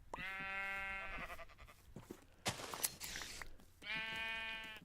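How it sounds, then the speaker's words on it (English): Sheep bleat in a modded Minecraft world: a long wavering bleat, a few crunchy footstep-like noises, then another drawn-out bleat, all close and clear. "Hopefully there'll still be a massive amount of sheep nearby."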